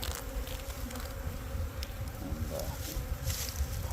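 Honey bees buzzing around an open hive being split into new colonies, a faint, steady, dense hum of many bees close by with no talking.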